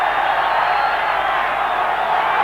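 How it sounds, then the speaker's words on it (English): A large football stadium crowd at a 1990 Marlboro Cup match between Colombia and the USSR keeps up a loud, steady roar of cheering, broad and continuous throughout. "Oh, and the crowd loving this one."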